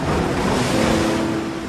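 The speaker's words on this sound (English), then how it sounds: "I can't even paddle out to the lineup past the big waves." Ocean surf rolls and churns in a brief, steady wash of breaking waves with wind noise, continuous and fairly loud, with no voices.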